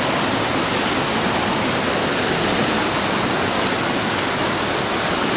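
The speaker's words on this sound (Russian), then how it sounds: "Надо спуститься пониже, чтобы ощутить всю мощь течения." A turbulent river in the Scandinavian wilderness rushes past at close range, a loud, steady, unbroken roar of churning water with no voices.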